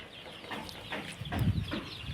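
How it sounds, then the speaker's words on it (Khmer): Chickens in a backyard coop clucking in short scattered bursts, close and fairly quiet, with soft rustling between calls and no talking. "នេះក៏ជាទ្រុងមាន់មួយដែរ"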